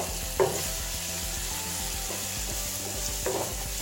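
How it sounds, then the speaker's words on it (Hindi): Masala with onions frying in hot oil is stirred, a steady close sizzle with a few scraping spoon strokes across the pan. "Now mix it all."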